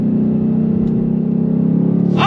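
A 2024 Ford Mustang GT's V8 hums close and loud in a steady, slightly rising drone, then a sharp rev surge breaks in at the very end.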